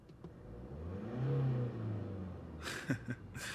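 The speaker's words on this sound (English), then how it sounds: "Let me also rev it a few times for you." A diesel engine in a 2024 Mercedes-Benz GLA revs once, rising and falling in pitch, then settles back toward idle, followed by some close handling noises.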